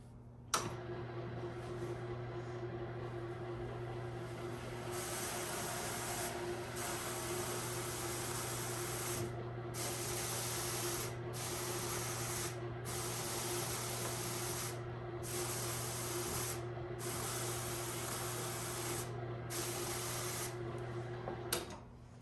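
Electric drum carder blending fiber with silk noils into a batt, a continuous close hissing whir with a low motor hum, broken by several short pauses and faint brushing ticks.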